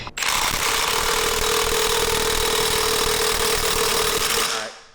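An impact wrench tightens fasteners on a rotary engine being built for street use. A single loud, continuous buzzing hammer burst lasts about four and a half seconds, close by.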